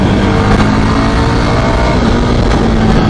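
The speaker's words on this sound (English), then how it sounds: "this is the same motor as of the Java Perak. It's the 330cc" A Jawa Perak 330cc motorcycle engine roars loud and steady while under way on the road, a dense continuous drone with no pauses.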